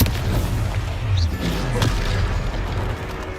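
A Confringo spell explodes in Hogwarts Legacy battle combat, a loud booming burst at the start, then rumbling blasts and a sharp crack midway against continuous rough low noise.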